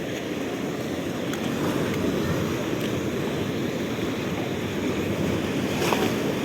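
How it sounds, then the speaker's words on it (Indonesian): Large ocean waves surge and wash up onto the rocky shore at Karang Bokor beach in Sawarna, a steady, loud roar of surf with wind buffeting the microphone throughout, no voices. "Ombaknya lumayan besar, jadi naik ke sini airnya."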